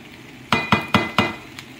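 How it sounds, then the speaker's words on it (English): A utensil knocks against a pan of shrimp fried rice with egg in four quick, sharp strikes close by, then a fainter tap, over a soft background hiss. "Stir it just a little."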